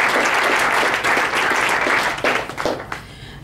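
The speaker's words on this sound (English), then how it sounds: "Let's just give David and his whole team a huge round of applause." A dinner audience at a charity event breaks into a loud, dense round of applause for a team, the clapping close and full before thinning out at the end.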